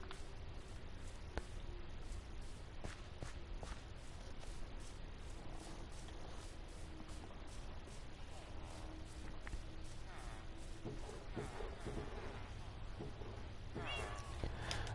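Cats meow in the video game Minecraft, several short cries sitting under a dense, noisy background of clicks and game sound that runs throughout.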